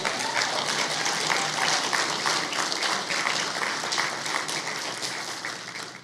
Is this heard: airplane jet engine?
no